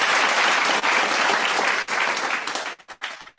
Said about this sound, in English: let's give them again another round of virtual applause